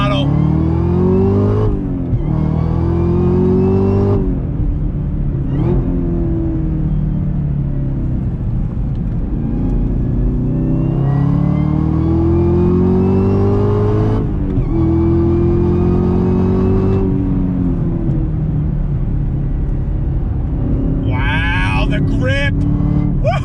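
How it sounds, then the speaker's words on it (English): A supercharged 2020 Chevrolet Camaro ZL1 1LE accelerating hard on a race track, its engine roaring loudly through repeated rising gear pulls with brief shift breaks, close and continuous, with a voice talking over it. "The whine from the supercharger is worth the price of admission."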